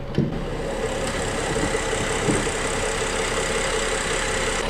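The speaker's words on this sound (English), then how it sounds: "The engine is running a lot better now since I got better fuel for it" A 15-year-old BMW X5 engine idles steadily with a constant low rumble and slight rhythmic ticking, heard up close with no talking.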